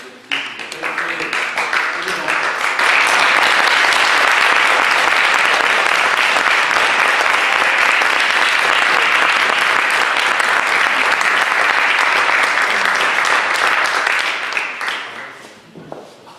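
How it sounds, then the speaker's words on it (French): Sustained applause from a gathered crowd at a municipal event, thanking the organisers: loud, dense clapping that swells after a moment, holds steadily for over ten seconds, then fades away. "je vous invite de nouveau à applaudir l'ensemble des organisateurs"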